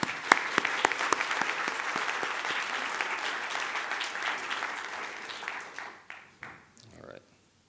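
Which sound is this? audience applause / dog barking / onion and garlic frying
audience applause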